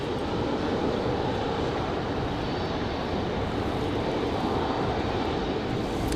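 The evening's last departure at Raleigh-Durham International: an airplane's engines give a steady, loud broadband roar that holds evenly throughout with no voices.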